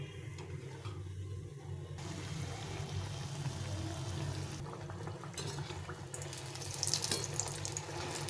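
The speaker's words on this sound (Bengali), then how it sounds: "তো এইভাবে চ্যাপটা চ্যাপটা করে আমি ভেজে নেব।" Flattened pitha dough made of semolina, wheat flour and rice flour frying in hot oil, giving a steady, fairly loud bubbling hiss that continues throughout, with a brighter crackling burst near the end.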